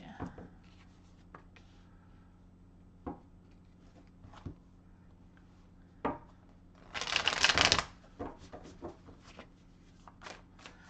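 A deck of tarot cards is shuffled in a brisk riffling burst of about a second, with scattered close taps and clicks of the cards before and after.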